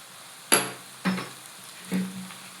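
Chilli garlic egg fried rice with chilli sauce, soy sauce and chilli flakes is stirred in a hot pan, three separate scraping clanks with a soft sizzle in between, close and alone.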